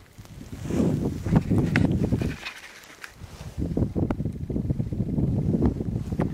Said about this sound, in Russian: Очень сильный ветер. Холодный очень ветер.